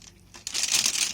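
Packaging crinkles and rustles while a Roccat Ryos MK Pro mechanical gaming keyboard with Cherry MX Blue switches is unboxed. The sound is quiet at first, then turns into loud, continuous close-up crackling.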